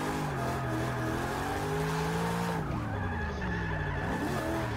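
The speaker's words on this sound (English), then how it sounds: "I am liking this V8 sound though on this S13." A V8-swapped Nissan S13 in Forza Horizon 3 roars continuously while drifting, its pitch rising and dropping as the revs shift, with a brief tire-squeal-like screech; loud and up close.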